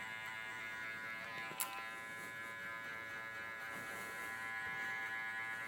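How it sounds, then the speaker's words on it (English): A hair clipper buzzes faintly and steadily during a barber's scissor-and-clipper haircut, a constant low electric hum with one small click midway. "creating a little bit of graduation with this clipper as well"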